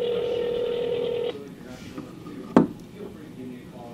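A telephone dialing tone holds steadily for about a second, then cuts off, followed by a sharp knock or clack and quiet room noise.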